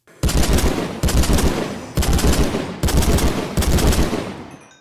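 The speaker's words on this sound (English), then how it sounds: "I kind of like the 3-round burst on here" Burst-fire gun from the Minecraft Scorched Guns 2 mod, five loud, evenly spaced blasts about a second apart, each a sharp crack with a short ringing tail, no voices over it.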